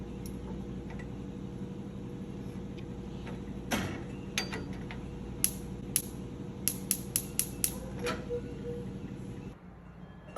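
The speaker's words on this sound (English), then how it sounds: "I want to make sure that it sparks" Igniter on a GE gas range (model JS760SEL2SSC) with the gas off, giving a series of sharp electric clicks at irregular intervals over a steady low hum, close and fairly quiet.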